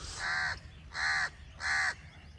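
A crow caws three times in an even rhythm, close and clear over a low background hum.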